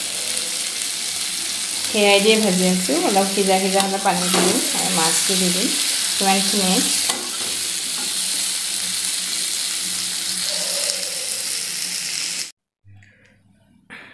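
Onion sizzling in a pan with cumin powder, turmeric and two chilies, a steady frying hiss that carries on for most of the clip before cutting out near the end, with someone talking briefly over it.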